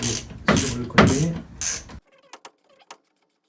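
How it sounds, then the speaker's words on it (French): A ratchet clicks in quick bursts while loosening the alternator bolt on a Peugeot 205 GTI engine, with loud ratcheting strokes followed by a few faint, sparse clicks. "pour l'alternateur, on vient donc desserrer la vis qui est sur le côté"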